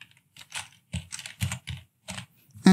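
Keys tapped on a computer keyboard in short clustered bursts, close and clear with brief gaps, ending in a sharper click.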